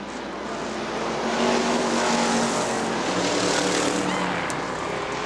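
Street stock race cars roar around Butler Motor Speedway in a close battle for position, a dense continuous engine drone that swells as the pack passes, with no talk over it.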